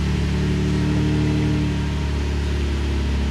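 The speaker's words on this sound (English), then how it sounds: "Car starts right up." A car's engine idles steadily right after a keyless push-button start, a close, even hum with a faint tonal whine that eases slightly toward the end, and no voices.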